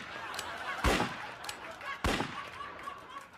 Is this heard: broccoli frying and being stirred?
no